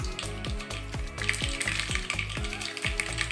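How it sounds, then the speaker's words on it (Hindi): Mustard seeds crackle and pop in hot oil for a tempering while upma is being made, a steady close sizzle with rapid, irregular pops running throughout. "ये आवाज आ रही है राई तड़कने की"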